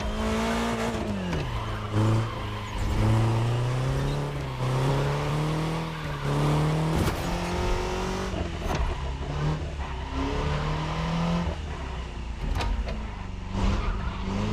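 A car driven hard in the video game The Crew Motorfest, its engine revving loud and close through repeated gear shifts, with tire squeal mixed in and a continuous roar throughout.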